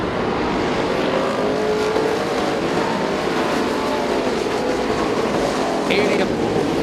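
Race cars circle the track at the Speedzone in a dense, continuous roar of engines that stays loud and steady throughout, with a brief sharp chirp near the end.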